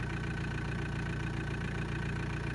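A car engine idles steadily at close range, a continuous low rumble with a faint regular pulse throughout and no other sounds over it.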